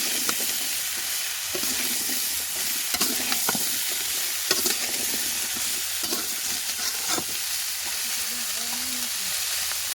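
Vegetables seasoned with salt and turmeric sizzle and fry in a pan while being stirred, a steady hiss broken by repeated scraping knocks of the spoon, close and fairly loud.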